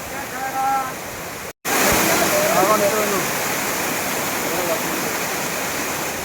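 Water rushing over a large dam on a Bhimashankar trek, a loud steady roar of falling water that runs throughout, with someone speaking briefly over it near the start and a short dropout partway through.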